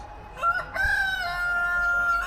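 A rooster crows once, fairly close and clear, in a zoo enclosure holding Polish chickens and guinea fowls, with faint background ambience.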